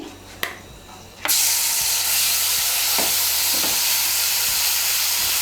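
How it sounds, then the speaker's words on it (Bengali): Onion paste hits hot oil for a Shahi Katla kalia; after a short quiet moment a loud, continuous sizzle erupts close up, with stirring scrapes breaking through it at intervals. "পেঁয়াজ বাটাটাকে তেলের সঙ্গে মিশিয়ে নিয়ে পেঁয়াজ বাটাটাকে ভেজে নিয়েছি"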